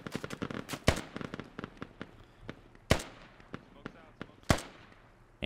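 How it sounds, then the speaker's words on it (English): Grenade launcher and RPG explosions in the military shooter game Squad during a bridge battle at a river crossing: rapid crackling bursts punctuated by three heavy blasts, loud and fairly close, with voices talking at times. "RPGs and grenade launchers being used."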